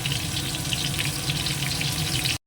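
Pointed gourd (potol) frying in hot oil in a wok, a steady, dense crackling sizzle that holds evenly throughout at close range with no voices.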